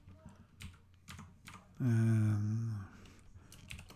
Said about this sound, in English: type in my name, my email address.